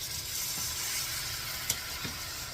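Gravy from a home-canned jar hits a hot pan, giving a steady broadband sizzle with a soft clink or two from the pan. No voices.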